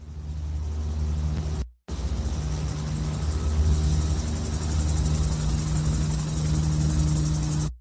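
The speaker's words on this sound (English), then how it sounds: "helicopter engine" Steady low helicopter engine rumble with a droning mechanical hum, loud and continuous, cutting out briefly near the start before resuming.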